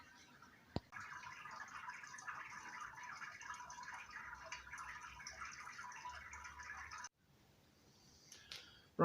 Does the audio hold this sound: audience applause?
no